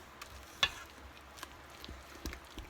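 A spoon mixing pumpkin pecan bread batter with flour gives faint, sparse scraping and soft tapping sounds in a quiet room, with a few sharper clicks against the bowl.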